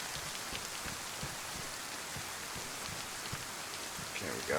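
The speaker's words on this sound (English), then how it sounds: "Now that rain's going to help us out with sneaking in here." Steady rain falls in the DayZ survival game (Vanilla 1.12), a dense, even patter of drops on surfaces running throughout at constant loudness with no talk.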